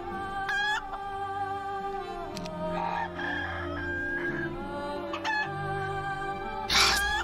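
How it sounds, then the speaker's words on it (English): Chickens crow loudly in the Heroes of Might and Magic 4 video game, with repeated cock-a-doodle-doo calls and clucks scattered over the stretch and a final loud crow at the end. "These chickens!"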